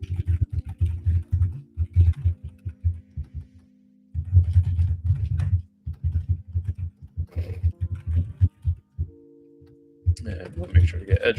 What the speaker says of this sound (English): Sorry about all the typing.